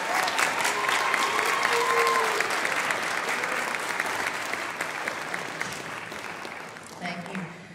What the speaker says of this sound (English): So can we give another round of applause for the band?